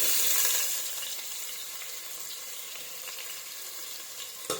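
Ginger garlic paste sizzles in hot ghee for ghee rice, a soft steady crackling fry that is strongest at the start and then settles to a quieter, even sizzle.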